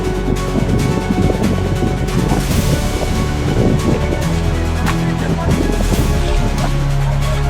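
Steady broadband rush of heavy floodwater in the flooded Adan river, loud and continuous throughout, with a rough, turbulent texture and faint wind buffeting.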